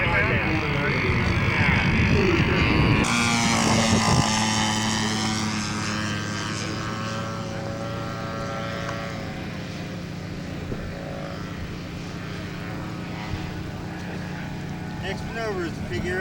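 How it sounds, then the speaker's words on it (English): A P-47 scale model aircraft makes a flyby at a scale aircraft show, its engine a loud, steady droning roar with a sustained tonal whine, while voices talk over it. "Wayne Seward's P-47. Aerotech models."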